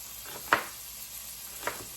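Butter melts in a pan over low heat, a soft, even sizzle close by with two brief pops spaced about a second apart, and no one speaking.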